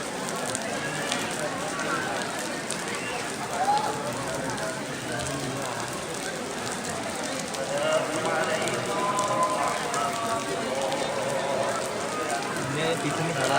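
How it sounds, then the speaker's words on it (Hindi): Rain falls steadily in the daytime at the Ajmer Sharif Dargah shrine, a continuous close hiss and patter that holds level throughout, with faint crowd sounds and voices in the background. "बारिश का मौसम नहीं है दिन में बारिश हो रहा है"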